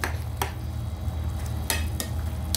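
Squid adobo bubbling at a full boil in a pot while being stirred, a steady close bubbling bed broken by sharp scrapes and clacks of the spoon against the pot.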